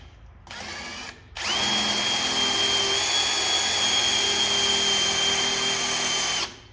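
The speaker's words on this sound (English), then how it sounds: "it's gonna be about a 5/16 hole to mount the bolt for the light" Power drill boring a 5/16 hole to mount the bolt for an LED light bar on a mower or ATV, a short burst followed by a long steady whine at close range, then stopping.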